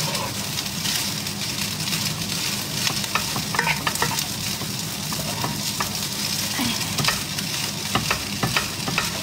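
Nasi goreng fried rice being stir-fried in a pan, a constant sizzle with scraping and clattering utensil strokes at irregular intervals, close up and moderately loud.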